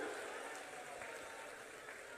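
A crowd applauds at a political rally in Srirampur, a dense and steady wash of clapping heard from a distance, faint and continuous throughout.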